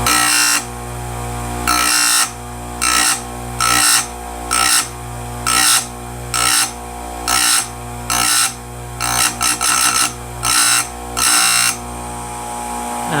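Stihl USG grinder sharpening a damaged chainsaw chain, a steady motor whine broken by about a dozen evenly spaced bursts of harsh grinding, each roughly half a second long, loud and close with no talk.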